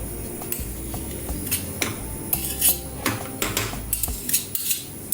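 A utensil stirs BBQ sauce with butter in a metal pot, giving repeated clinks and scrapes against the pan in an irregular rhythm, close and moderately loud, with no talking.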